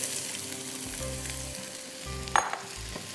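Red pumpkin frying in a pan for halwa, a steady close sizzle with soft stirring scrapes and a brief clatter near the middle, no voices.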